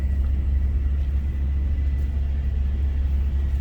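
A car rolls slowly through a lakeside state park campground in Tennessee, with a loud, steady low engine and road rumble from inside the cabin, and nobody speaking.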